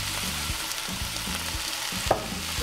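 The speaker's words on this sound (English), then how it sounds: "We're going to saute that for a little bit so we can sweat the tomatoes so they will get soft" Shrimp and tomatoes sauteing in olive oil with paprika and black pepper: a steady, close sizzle with repeated stirring scrapes and one sharp clink of a utensil near the end.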